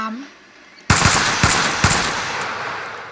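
An M3 gun firing in a zombie video game, a quick burst of three or four loud, close shots after a brief quiet start, each crack trailing into a fading echo.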